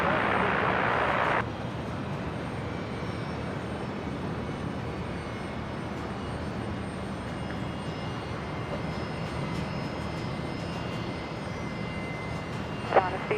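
An aircraft lands on runway 01 right at Brisbane International Airport with a steady, distant jet roar that drones on evenly, after a brief burst of radio chatter at the start.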